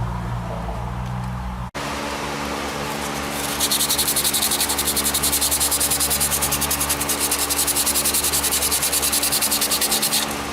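Hand sanding a wooden bowl with 220 grit sandpaper: after a short pause, a loud, rapid, rhythmic scratching rasp of back-and-forth strokes continues steadily.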